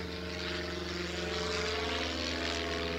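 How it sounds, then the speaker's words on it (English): A propeller airplane passes overhead with a steady, loud droning hum and engine tones that hold throughout, at an outdoor dog adoption event. "and there's a plane overhead"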